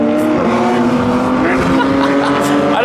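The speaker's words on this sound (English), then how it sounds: "I don't mind being interrupted by the sound of a beautiful flat six." Flat-six race car engine at a Michelin track day event, a loud droning howl that rises and falls as a car passes. It sits right under a person talking close up.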